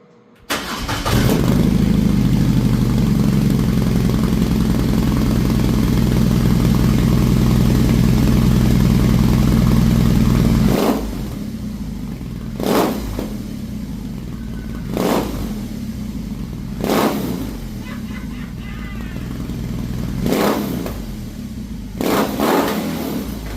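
A 2022 BMW R18 B motorcycle's boxer engine starts and idles with a loud, steady rumble for about ten seconds, then drops away into a series of sharp, separate throttle blips and revs.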